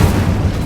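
A fire spell, Incendio, is cast in Hogwarts Legacy, giving a short, loud, dull booming burst with heavy low rumble and no voices, lasting under a second.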